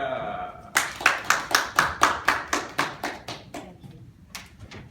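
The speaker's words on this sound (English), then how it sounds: "Let's give a big round of applause to Miss Valerie M." A small Toastmasters club audience claps in a sparse, rhythmic round, a dozen or so distinct claps in steady succession that thin out and fade, following a brief bit of talk at the start.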